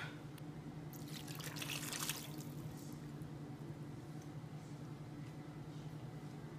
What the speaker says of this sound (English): I'm gonna add some water to this to try to get whatever is in the can.